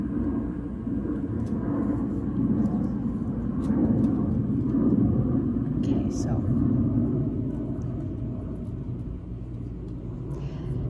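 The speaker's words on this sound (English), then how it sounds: "And then there's a plane overhead." An airplane passes overhead as a broad low rumble that swells and fades steadily in the background, with a few faint clicks and a quiet word of talk at a home stitching session.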